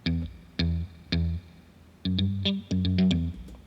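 Clean electric guitar chords in Logic Pro with stock plugins, struck one at a time then in a quicker rhythmic pattern, each ringing out with a springy spring reverb tail.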